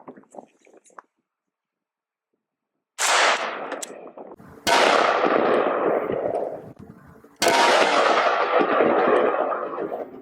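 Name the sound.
7.62 rifle rounds hitting an AR500 steel body armor plate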